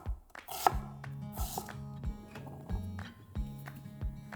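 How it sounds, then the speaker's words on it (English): Quick knife chops finely cutting a red onion on a cutting board, a steady run of light taps, close up and clear, with music playing underneath. "Now, finely chop a red onion and add it to the bowl."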